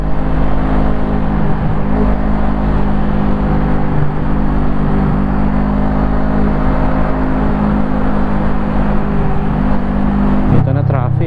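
A Bristol Bobber 700 motorcycle drones steadily and loudly up close while being ridden, a continuous engine hum mixed with wind rush that shifts briefly at the very end.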